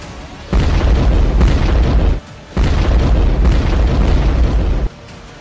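Heavy blast-like roaring from an explosion on the Kerch Bridge, two long loud sustained bursts of broadband rumble separated by a short drop.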